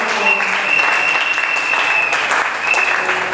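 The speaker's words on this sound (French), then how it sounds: "applaudissez pour le Seigneur" A French-speaking church congregation breaks into loud, sustained applause, a dense even roar of clapping lasting the whole stretch with a faint tone ringing beneath.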